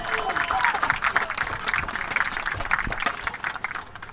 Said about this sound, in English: a great big round of applause for our veterans and current armed forces servicers